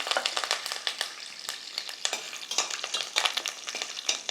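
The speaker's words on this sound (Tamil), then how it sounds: "கருவேப்பிலை போட்டுட்டு இந்த வேர்க்கடலை வந்துட்டு நம்ம வந்து இதில் ஆட் பண்ணிக்கிறோம்" Mustard seeds, curry leaves and peanuts fry in hot oil for bisibelebath, giving a steady close sizzle with crackling pops and stirring scrapes.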